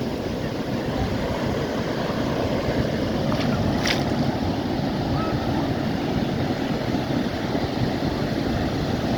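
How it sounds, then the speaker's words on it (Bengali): Sea waves roaring and breaking on Inani beach: a loud, continuous broadband rush of surf mixed with wind buffeting, steady throughout with no pauses. "সমুদ্রের ঢেউয়ের প্রচণ্ড গর্জন এবং পাড়ে এসে ঢেউগুলি ভেঙে যাচ্ছে।"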